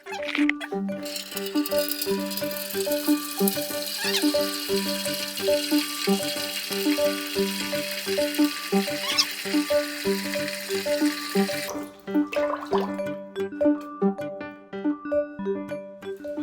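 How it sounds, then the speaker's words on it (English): A bathroom tap runs steadily while teeth are brushed, the scrubbing rattle repeating over the flowing water. The water cuts off near the end, leaving only the brushing. "we're going to see how much water I use in 20 seconds of brushing my teeth"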